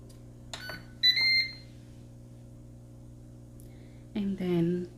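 A Ninja Foodi multicooker switched into sauté mode gives short electronic beeps, a brief tone around one second and another pair near four seconds, close and clear in a quiet kitchen with a faint hum underneath.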